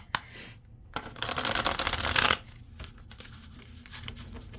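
A large Tarot of the Divine tarot deck being shuffled by hand: a dense, crisp riffle of cards lasting about a second, set between softer handling rustles in a quiet room.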